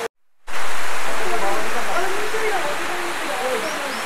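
A waterfall in Kameng district, Arunachal Pradesh, on the road to Dirang, roars as a loud, steady broadband rush of falling water close by after a brief silent gap at the start.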